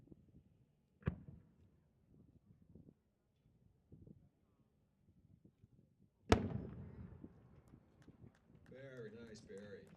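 8-inch red and green firework shell by Barry McLean: a faint early thump, then a loud, sharp distant boom with a rumbling tail, with voices afterward.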